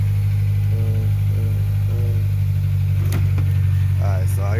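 Warmed-up Chevy Tahoe with a 5.3 V8 idling, a steady low engine hum running throughout with a voice briefly talking over it.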